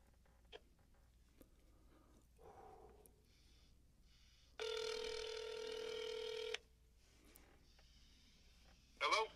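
An outgoing phone call rings on the line, one long electronic ring burst of about two seconds between quiet gaps, with faint voices and small clicks around it and a brief tone at the end.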